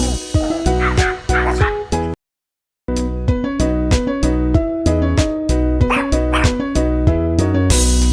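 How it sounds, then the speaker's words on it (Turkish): Dog barks ring out as a series of short, punchy yelps over a loud, rhythmic children's song, with a brief silent gap midway through. "Köpeğim hav hav hav hav der"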